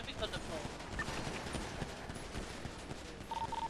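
Rapid bursts of video-game gunfire in GTA NoPixel roleplay, dense crackling shots over several seconds at moderate level, some voice activity mixed in.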